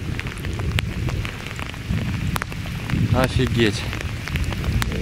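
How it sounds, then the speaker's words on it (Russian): Heavy rain pours down during a thunderstorm in a dense, steady hiss, with scattered louder drops striking nearby; someone speaks briefly over the downpour. "Вообще как льет."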